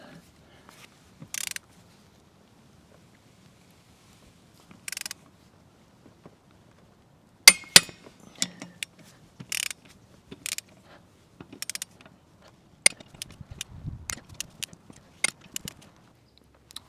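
Ratchet wrench tightening wheel lug nuts on a new Yanmar SA425 compact tractor, sparse sharp clicks and short ratcheting bursts separated by pauses, close and clear with little else around.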